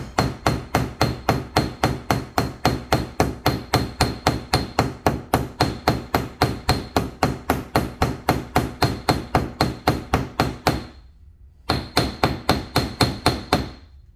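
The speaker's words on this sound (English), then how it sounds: "so we're going to set that rivet" Hammer blows set a rivet through leather for a handmade purse, a steady run of sharp, loud, evenly spaced strikes near the mic, pausing briefly before a final few hits.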